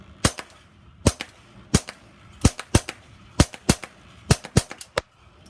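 Integrally suppressed Ruger Mark IV .22 pistol with an Aklys OSS titanium suppressor, 3.9-inch barrel, firing subsonic at an outdoor range: about a dozen sharp, muted shots with uneven spacing, some in quick pairs, loud and close.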